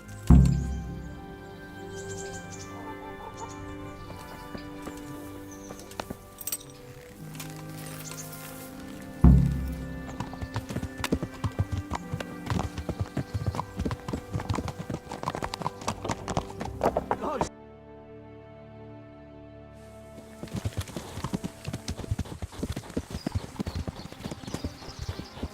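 Horse hooves clip-clop steadily in the medieval video game Kingdom Come: Deliverance, a continuous rhythmic trot beneath music, with people talking over it at times.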